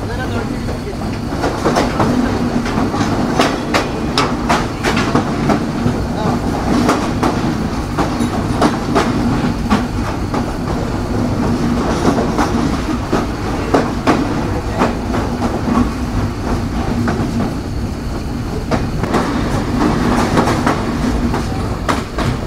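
Jahanabad Express running from Khulna toward Dhaka, heard from inside a crowded coach with standing passengers: a loud, continuous rumble with rapid rhythmic clickety-clack of wheels over rail joints throughout.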